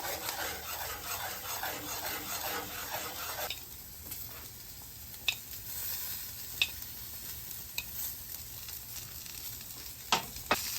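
Food sizzles steadily on a Weber griddle insert on a gas grill set to low, a loud crackling hiss that later softens, punctuated by occasional sharp scraping clicks of a spatula.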